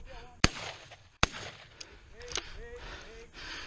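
Two sharp shotgun blasts fire close by during an upland bird hunt on Maui, about a second apart. Quieter outdoor noise and scattered voices follow.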